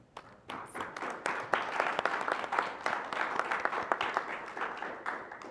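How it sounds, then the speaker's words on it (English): An audience applauds at a State Board of Education public meeting, a full, even wash of many hands clapping that swells after a soft start and carries on steadily, heard alone without voices. "If the applause is any indication, we are ready for the vote."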